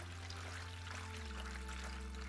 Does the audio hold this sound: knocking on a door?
no